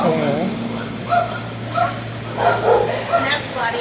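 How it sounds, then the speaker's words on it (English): Dogs bark and yip in a shelter kennel room at a county humane society, several short bursts spread through the clip over a steady air-conditioning hum, with people talking among them. "Here we go to the dog room."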